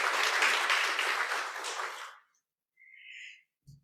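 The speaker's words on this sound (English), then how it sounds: "Another warm clap to acknowledge and appreciate Dr." Audience applause for Dr. Jane at a scholarship launch event, a dense burst of clapping lasting about two seconds before fading out, followed by faint brief sounds.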